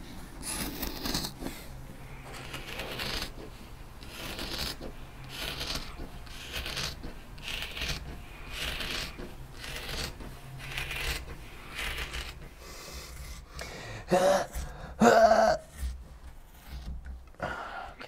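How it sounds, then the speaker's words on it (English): Carbon fiber cloth being cut for a car hood project, a close series of rhythmic snipping and rustling strokes repeating steadily, with a few louder scrapes near the end. "Got our carbon cut."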